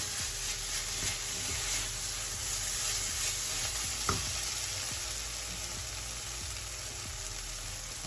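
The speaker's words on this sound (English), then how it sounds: "we're going to basically let it saute first. Get all the flavors and get coated also with the oil" Eggplant sautés in oil in a pan, a steady close sizzle with soft stirring scrapes and one brief knock midway, no talking.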